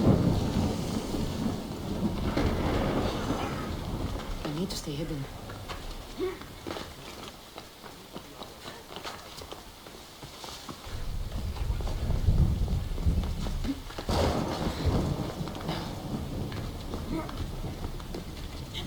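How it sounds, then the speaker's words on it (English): Rain and rolling thunder in an Assassin's Creed Odyssey game scene in Corinth, a steady wash of rainfall with low rumbles swelling and fading, heard under someone talking and a few game sounds. "It's raining."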